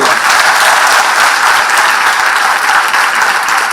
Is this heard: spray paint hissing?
no